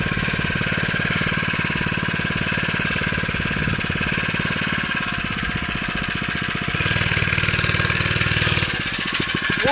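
A motorbike or motor scooter engine runs close by with a rapid, steady chugging pulse that swells louder for a stretch near the end, with no talk over it.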